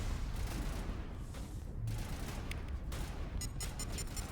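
Enemy gunfire in the Mass Effect video game: a dense, continuous fusillade of shots that stays loud throughout, with sharper bursts toward the end and no talking.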